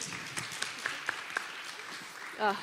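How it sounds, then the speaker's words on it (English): Audience applause at a Women in Tech panel discussion on leadership and diversity: a steady, moderately faint wash of clapping with a few sharper claps standing out, and a voice breaking in briefly at the end. "Yes, please, a round of applause"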